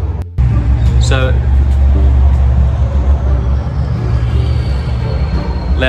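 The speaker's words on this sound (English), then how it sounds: "loud truck." A loud truck passing close by, a heavy low engine rumble that fills the whole clip and holds steady, with a brief higher rattle early on.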